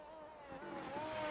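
Red Bull F1 car in F1 22 at the Belgian Grand Prix, a faint high-pitched engine whine rising as it passes, distant and brief.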